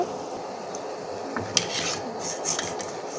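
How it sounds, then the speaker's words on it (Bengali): Homemade rice chips fry in hot oil in a pan with a steady close hiss, broken by light clinks and scrapes of a utensil against the pan. "এভাবে আমি সবগুলোই ভেজে নিব"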